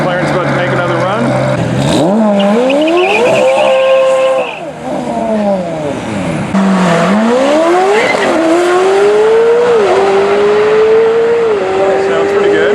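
A 1400 hp McLaren 720S launches down a drag strip on a quarter-mile run, engine loud and close, revving up through several gear shifts with rising and falling pitch, tire noise and crowd talk mixed underneath.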